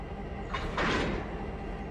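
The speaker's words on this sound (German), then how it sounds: "wir werden mal an den Zug da hinten ankoppeln" In the Railroader video game, a GP38 locomotive couples onto a line of train cars with a single sharp metallic clunk over a low, steady rumble, close and alone.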